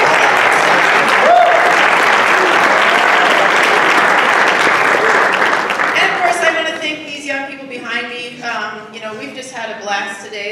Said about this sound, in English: let's give our parents one more round of applause